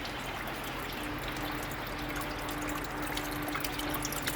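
Small waterfall trickling steadily inside a green tree python enclosure, a soft continuous splash and dribble of water, close and even throughout with no talking.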